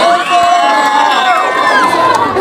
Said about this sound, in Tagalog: At wala rin po bang masigabong hiyawan dyan?